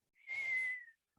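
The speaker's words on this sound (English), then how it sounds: "there's never been a more justified whistle than right there" A single person gives one sustained rising whistle of amazement, close and clear, lasting under a second, with no talk around it.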